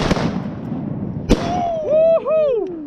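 Two sharp shotgun blasts ring out during a goose hunt, the second about a second after the first, followed by loud honking goose calls.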